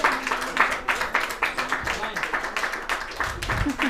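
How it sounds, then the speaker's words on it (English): Audience clapping at a folk music concert, a steady patter of many hands filling the room with a few louder bursts and faint voices mixed in. "Round of applause for everybody."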